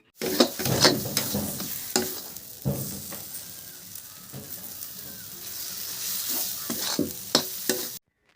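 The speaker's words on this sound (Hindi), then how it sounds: "चलाते हुए अच्छे से हम पकाएंगे 2-3 मिनट तक।" Food sizzles in a hot pan as tomatoes are fried for a dal tempering while a utensil scrapes and stirs with irregular clinks and knocks, close and steady.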